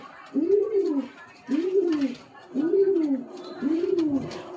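A panja pigeon in a cage coos four times in a steady repeating rhythm, each call a low rounded roll. It is heard close up, with faint background noise between calls.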